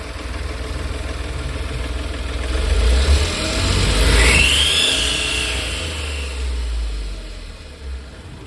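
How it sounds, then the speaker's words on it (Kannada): A goods vehicle engine running with a rumbling idle that swells as it revs, and a thin rising turbo whistle that sweeps up in the middle before the engine settles back down. "ಏನು ಟರ್ಬೋ ಸೌಂಡು ಅಂತಾರಲ್ಲ ಚಲ್ಪತಿ ಅಣ್ಣ?"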